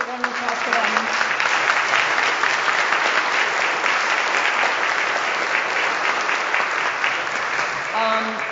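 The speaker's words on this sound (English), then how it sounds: "So a special round of applause for them." Sustained audience applause at a live onstage storytelling event, a dense, steady wash of clapping from many hands that holds loud and even for several seconds before tapering at the end.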